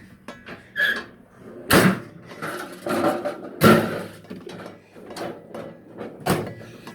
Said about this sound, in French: Il faut bien faire claquer tous les tiroirs.